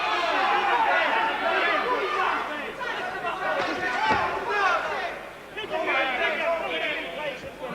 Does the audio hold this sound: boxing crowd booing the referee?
yes